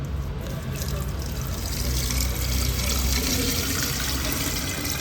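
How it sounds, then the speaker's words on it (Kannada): Boiled, cooled water pours steadily into a jar while making pineapple wine at home, a continuous splashing, gurgling stream that runs at an even level for the whole stretch. "ನಾನಿಲ್ಲಿ 4 ಲೀಟರ್ ನೀರನ್ನು ಸೇರಿಸ್ಕೊಳ್ತಾ ಇದ್ದೀನಿ"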